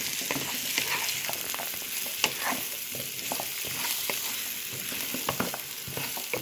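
Bite-size pumpkin cubes frying in a pan and being stirred, a continuous close sizzle with repeated scraping and knocking of the spatula, no talking.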